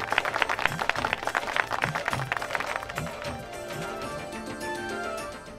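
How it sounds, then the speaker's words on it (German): A crowd applauds heartily with dense, overlapping clapping that gradually thins and fades into a softer room wash by the end. "Das verdient einen kräftigen Applaus."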